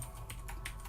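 Keys tapped on a computer keyboard while entering a server host name, a few soft clicks close by over a low steady hum, with no voices.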